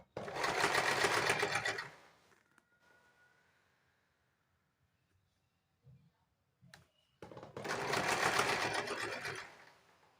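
A sewing machine stitches piping onto a blouse neckline in two loud, steady bursts of about two seconds each, separated by quiet stretches with faint handling clicks.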